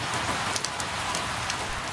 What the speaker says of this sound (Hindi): बरसात अब धीरे धीरे हल्की हो जाती है